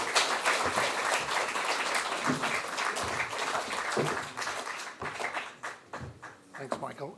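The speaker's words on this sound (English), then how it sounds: "Would you give him a huge round of applause?" A large audience at an evening event at an Irish cultural centre applauds to welcome a speaker. The clapping is loud and dense at first, then thins and fades, with a few voices and taps near the end.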